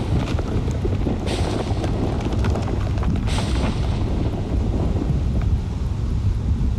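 Thunder rolls through a stormy night in the video game Outlast 2, a loud, continuous low rumble with wind-like noise and brief cracking bursts.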